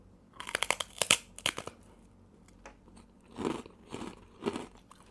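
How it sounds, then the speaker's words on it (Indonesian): A crunchy Korean snack is bitten and crunched up close. A quick burst of sharp, crackling bites comes first, then slower, duller chewing crunches, with no talking. "kriuk, mirip kayak kerupuk"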